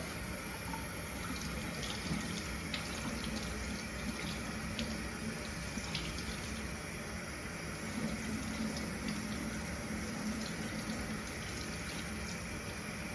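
A tap runs steadily while hands and forearms are rinsed at a sink during surgical-style hand washing, a close, continuous splashing hiss with no talk.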